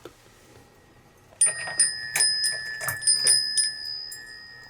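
Bell chimes ring out in a ghost-hunting video game, a sudden series of bright, sustained metallic tones with several repeated strikes over a few seconds, fairly close and clear against a quiet background.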